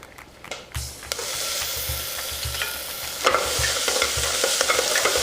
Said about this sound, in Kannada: ಚೆನ್ನಾಗಿ ತಿರುಗಿಸ್ಬೇಕು.